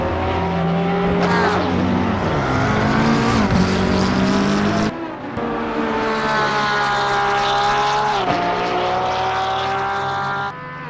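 A simulated race car screams along the front straight at Zandvoort in a racing video game, its high engine note rising and shifting through gears, loud and close with a brief dip midway.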